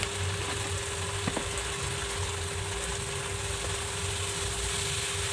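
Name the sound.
spices with turmeric and salt frying in pan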